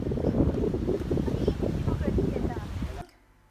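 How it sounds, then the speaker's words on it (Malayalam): Steady wind at Kappad beach, Kozhikode, Kerala, rushing and buffeting against the microphone for about three seconds, then cutting off abruptly into near quiet. "നല്ല കാറ്റുണ്ട്"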